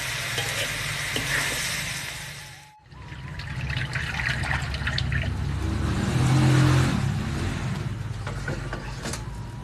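Chicken pieces for a spicy fried chicken dish fry in hot oil, giving a steady, close, loud sizzle and crackle that runs almost without a break, briefly dropping away once before swelling again.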